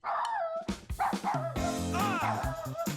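A cartoon dog in the Toca Boca video game yips and barks in a few quick bursts, close and fairly loud, with high-pitched voices talking around the barks.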